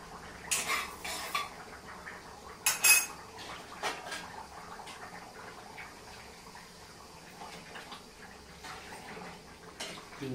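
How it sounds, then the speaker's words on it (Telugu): A utensil clinks and scrapes against a metal pan while murrel fish pieces are stirred with mustard seeds and cumin, with a few sharp knocks early on, then quieter scraping. "ఆవాలు, జీలకర్ర. కలుపు ఒకసారి ఫిష్ ముక్కలు."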